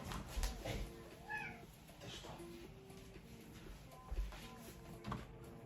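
A cat gives a short, faint meow early on, then stays quiet against a busy outdoor background of low clatter and hum.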